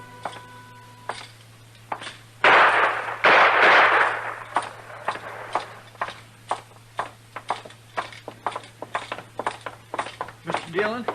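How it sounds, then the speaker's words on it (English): Gunfire in a radio western drama set in a Longhorn saloon: a loud close burst of shots, then a long run of sharp, evenly spaced cracks and knocks, like clip-clopping hooves or further shots. "Trimble come in, tried to shoot Cam Spiegel, and Cam killed him."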